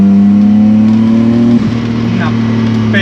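A restored BMW E30 with a swapped M52B28 engine drives along a mountain pass road, its steady, loud, droning hum holding constant with a brief dip around midway before resuming.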